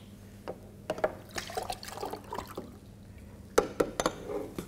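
Water splashes and gurgles as it is poured out of a plastic bottle, with irregular faint trickles and several louder splashes near the end.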